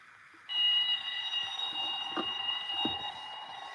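A fake bell-style fire alarm starts abruptly and rings on continuously, a loud, bright, sustained metallic ringing with a few soft knocks beneath it.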